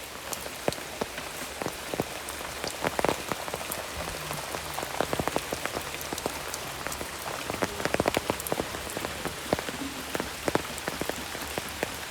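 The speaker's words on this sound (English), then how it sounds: "because of heavy rains and because of the water dripping" Steady heavy rain pours down, with dense hiss and frequent sharp drips and splashes close by throughout, no voices.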